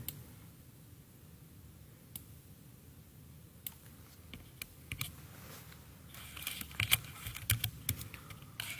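Quiet computer keyboard typing in MS Word: scattered single keystrokes at first, then quicker clusters of clicks toward the end, close and soft.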